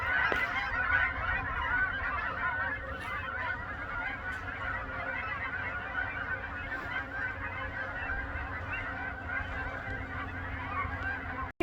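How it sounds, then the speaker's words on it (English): Canada geese near a natural pond honk repeatedly over steady background noise, a flock calling at moderate distance in quick overlapping bursts that carry on for several seconds as the birds fly off. "The Canadian geese here flying away."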